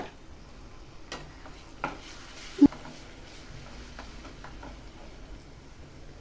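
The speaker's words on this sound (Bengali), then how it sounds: "স্বাদ মতো নুন দিয়ে মশলাটা এবার ভালো করে কষিয়ে নেব।" A spice paste of garlic and ginger paste with tomato puree fries in a pan for a chicken kofta curry. A faint, low sizzle runs throughout, with a few sharp utensil clacks as it is stirred.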